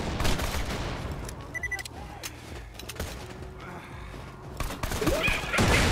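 Gunfire from the video game Borderlands 2 crackles in bursts of quick shots under excited talk and game sounds.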